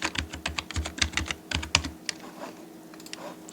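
Fast, close keystrokes clatter on a computer keyboard in a quick uneven burst as a name is typed into design software, then thin out to a few scattered taps, with no talking.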